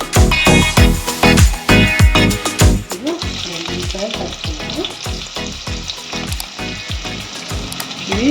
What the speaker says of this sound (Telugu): ఇవి గోల్డెన్ కలర్ వచ్చే వరకు వేయించుకోవాలి.